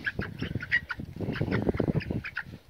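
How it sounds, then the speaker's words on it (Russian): Poultry flock in a farmyard, with two roosters scuffling among hens; a dense run of close, loud squawks and honking-like calls, no speech. "тут, наверное, два петушка дерутся"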